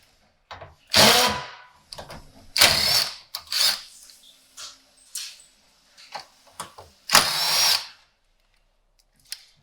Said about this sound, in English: if you have an impact driver, you can kind of muscle your way through it